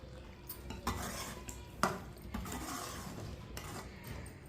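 White chickpeas cooking in a pot are stirred with a metal spoon. Scraping strokes and a few sharp clinks against the pot sit over a soft, steady simmering sizzle, close by with no talking.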